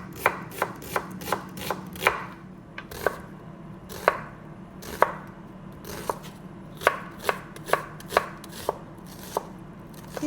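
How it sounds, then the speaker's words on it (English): A knife slicing onions on a cutting board, giving a quick series of sharp, distinct chops in an uneven rhythm, close and clear with no talking. "we're going to start our bitter gourd recipe by slicing the onions"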